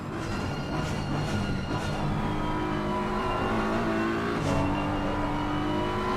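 A race car engine in a sim racing game at Imola howls steadily with rising and falling pitch through gear changes, loud and close with no talk over it.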